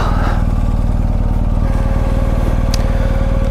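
A Royal Enfield Himalayan motorcycle idles at low speed while being turned around on a hill road between Kotagiri and Ooty, its engine giving a steady, close, throbbing drone that runs continuously.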